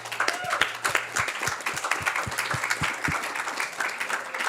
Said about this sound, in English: I saw you clapping your hands, and you're clapping your hands now